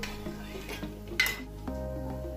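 Dried fish frying in oil, with a low sizzle beneath a few clinks and a sharp metallic scrape of a utensil against the pan, close and quiet.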